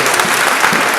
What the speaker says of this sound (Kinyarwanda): dukomera amashyi umwami Yesu